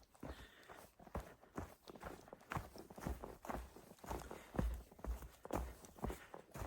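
Footsteps of a hiker on an Appalachian Trail wilderness path, a steady rhythm of close crunching steps on rough terrain, moderately loud and continuing throughout with no talking.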